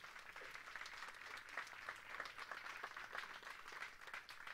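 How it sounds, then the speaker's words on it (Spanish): A church congregation claps hands in worship for the Lord, a steady, even patter of many hands that sounds faint and distant throughout. "Dale palmas al Señor"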